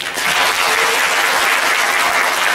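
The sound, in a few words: applause welcoming the speaker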